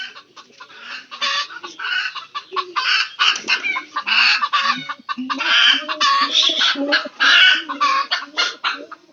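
Several backyard chickens, including a large hen, cluck close by in a busy overlapping chorus of short, rising and falling calls, loud and irregular against quiet surroundings.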